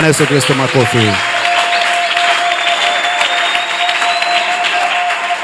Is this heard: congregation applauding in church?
yes